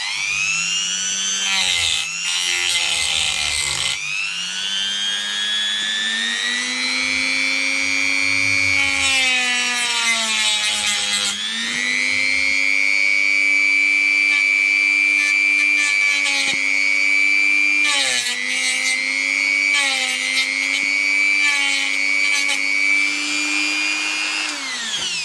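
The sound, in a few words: multi-tool trimming a key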